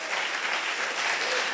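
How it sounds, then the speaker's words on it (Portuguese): A church congregation claps in praise, a thick continuous wash of applause from many hands, steady and fairly loud for the whole stretch without a break. "Pode aplaudir ao Senhor, filho."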